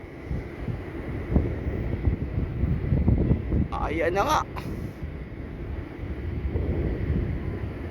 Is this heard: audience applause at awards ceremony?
no